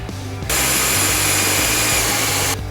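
A power drill runs steadily in a workshop for about two seconds, starting and stopping abruptly, loud and close, with a whining motor tone and no talking.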